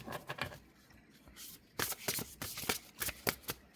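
A deck of large Alfons Mucha oracle cards is shuffled nearby, with quick riffling bursts in a rapid uneven rhythm, grouped into several short runs.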